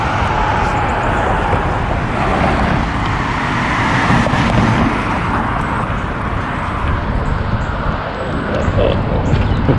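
Steady roar of cars on a street in Victorian Village, Columbus, a continuous loud rumble of passing traffic with no break, heard close by.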